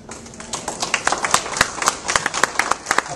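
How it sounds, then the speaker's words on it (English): An audience at a New Hampshire governor debate breaks into applause, scattered claps swelling into a fuller, uneven round of clapping that keeps going for several seconds in the hall. "Please hold your applause."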